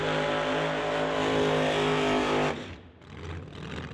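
A Roots-supercharged drag racing car fires up at a drag strip. A steady, raw engine roar runs for about two and a half seconds, then cuts off abruptly. Quieter rumbling and some background noise follow.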